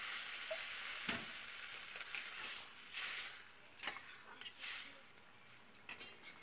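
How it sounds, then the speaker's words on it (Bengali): Hot water poured into a pan of sautéed potato and eggplant: a loud hissing sizzle that swells in several bursts and settles into a bubbling simmer, close by. "এখানে আমি গরম জল দিয়ে দিচ্ছি।"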